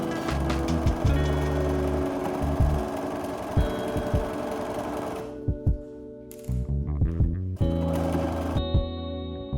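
A sewing machine stitches a fabric rectangle onto a quilted laptop case, running steadily with a fast rhythmic whirring hum, briefly pausing and restarting, close and with no talking.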